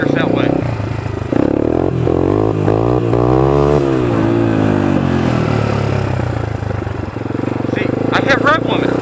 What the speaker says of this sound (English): I hit rev limiter and stopped the wheelie.